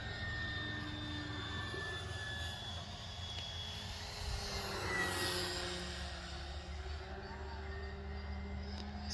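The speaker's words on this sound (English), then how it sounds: "The Viper 90 is probably the best EDF jet you can get." An E-Flite Viper 90 EDF radio-controlled jet flies past at a distance, its ducted-fan whine faint and sustained and swelling briefly midway as it passes over an outdoor field.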